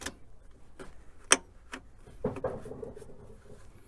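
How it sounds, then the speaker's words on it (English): A few sharp, light metallic clicks of a clamp hitting a radiator cap, one clearly louder than the rest, followed by soft handling rattles at close range. "that little click you're hearing is this clamp hitting the side of the radiator cap"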